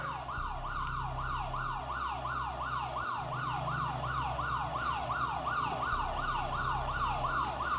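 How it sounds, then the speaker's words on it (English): A wailing emergency siren responding to a fire in Stillwater sweeps up and down in a rapid, repeating cycle, loud and continuous over a low vehicle rumble. "the team uses the sound of sirens as a potential triggering mechanism"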